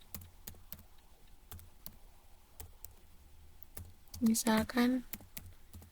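Computer keyboard typing in a Linux Ubuntu terminal, a steady run of light clicks throughout, briefly under a short spoken phrase near the end.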